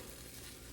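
A low carb chickpea flour wrap sizzles steadily in a hot pan just after flipping, a soft continuous frying hiss with no voices.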